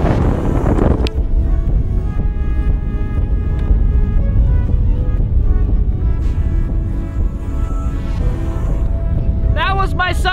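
Loud, constant wind buffeting a microphone outdoors while fishing on a floating bog, a roaring rumble throughout with a brief burst of higher sounds near the end.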